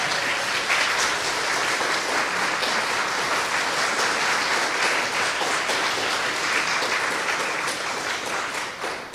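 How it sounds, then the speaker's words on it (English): A large audience gives a standing ovation, sustained dense clapping at a steady loud level for several seconds, tapering slightly at the end with no voices on top. "Would you give my wife a standing ovation?"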